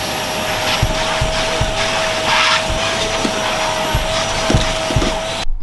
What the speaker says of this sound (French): je vais l'aspirer, la nettoyer, passer un coup de chiffon pour la poussière